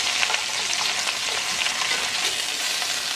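Oxtail pieces brown in a crowded hot pan, giving a steady, dense sizzle and crackle that stays loud and close throughout with no talking.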